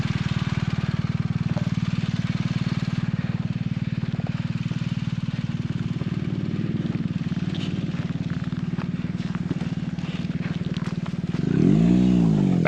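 An off-road motorcycle engine running on a rough, soft-sand track, a loud close steady drone that swells into a revving surge near the end, with faint clatter and a voice briefly underneath.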